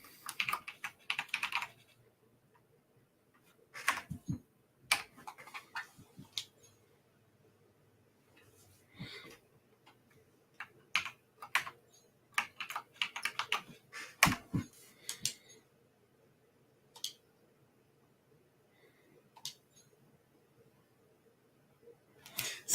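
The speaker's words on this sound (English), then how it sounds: "Oh, I gotta use the keyboard." Rapid bursts of typing on a computer keyboard come in irregular clusters of clicks with pauses between them, over a faint steady hum.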